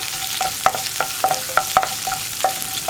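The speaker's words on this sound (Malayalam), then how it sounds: "ഇത്രയും കാര്യങ്ങൾ ചേർത്ത് ഒന്ന് ഇളക്കി കൊടുക്കുക." A spatula stirs curry leaves and spices in a hot oiled pan while making aval uppumavu, with rhythmic scraping taps about three per second over a steady close sizzle, no voices.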